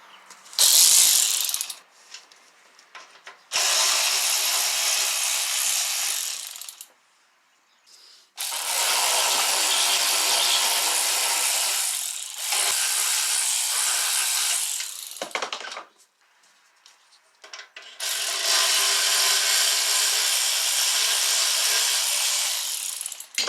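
A ratchet wrench clicks in long, loud bursts while removing the intake and exhaust manifold from a Scion tC engine, close up, with pauses between runs.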